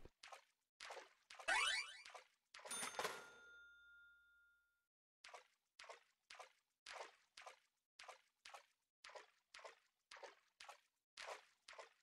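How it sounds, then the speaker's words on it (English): Footsteps sloshing through ankle-deep water in the video game Deadly Premonition, a steady series of wet splashing steps with a brief metallic clang and ringing tone early on, quiet and without talk. "Feels like I'm walking in ankle deep water"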